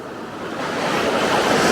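Ocean surf rolls in at Flagler Beach beside the Gamble Rogers campground. A broad, steady wash of breaking waves swells slightly louder, mixed with a little wind, and no one speaks.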